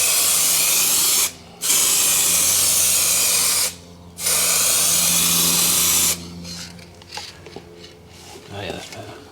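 Broadband hiss of a spray gun laying paint coats on a BMW E46 330Ci, running in long steady bursts with brief pauses, then giving way to quieter shuffling while people talk.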